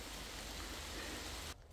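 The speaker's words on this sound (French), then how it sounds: "Juste au moment où arrive la pluie, c'est top." Rain patters steadily on a tent pitched along the Via Francigena hiking trail, a dense even hiss that cuts off abruptly near the end.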